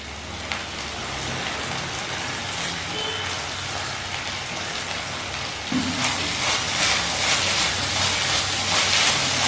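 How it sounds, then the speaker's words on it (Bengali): Onions and chopped green chillies frying over medium flame in a pan for a dhaba-style bhindi masala, giving a steady crackling sizzle that grows louder and busier partway through, with no voices. "এই দুটো মশলাও পেঁয়াজের সাথে ভালো করে ভেজে নিতে হবে।"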